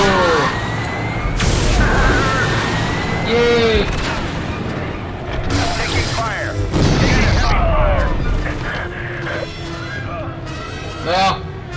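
Gunfire bursts and heavy booms from explosions fill a Star Wars: The Force Unleashed battle, dense and continuous, with game voices and a player talking over the combat.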